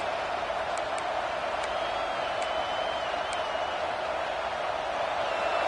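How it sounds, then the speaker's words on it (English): A large stadium crowd at a Utah football game roars in a steady, loud wall of noise, with a few sharp whistles cutting through. "It's early, but this crowd is fired up. Listen to this noise here."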